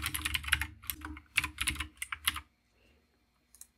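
Computer keyboard typing while code is written, a quick run of close, crisp key clicks in bursts for over two seconds, then near silence with a faint final tap.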